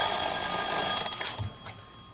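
An old-fashioned telephone rings inside a phone booth in a comedic radio drama, a bright bell-like ring that is clear and steady at first, then breaks off and fades.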